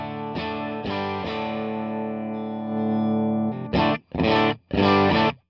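Electric guitar played through a single Fractal FM9 amp model with distortion: a sustained, ringing chord fades over several seconds, then three short, punchy chord stabs, loud and alone.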